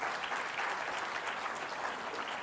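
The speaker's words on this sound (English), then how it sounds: "For all the participants, can we give them a nice big round of applause?" Steady round of audience clapping for participants at the Chinnikrishnan Innovation Awards ceremony, moderately distant and sustained for a couple of seconds with no talk over it.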